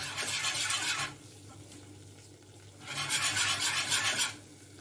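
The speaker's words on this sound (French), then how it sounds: "Vous mélangez pour faire votre roux. C'est ce qui va lier votre béchamel. Vous mélangez bien." A whisk rasps steadily against the bottom of a pan while a butter-and-flour roux for béchamel is stirred, in two loud scraping bursts separated by a quieter pause, close up with no talk.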